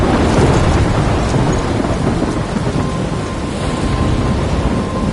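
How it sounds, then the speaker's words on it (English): Heavy thunderstorm near a lighthouse, with dense rain hissing constantly over deep rolling thunder. The roar is loud, broad and sustained across the whole stretch, and nobody speaks. "I'm trapped in a storm?"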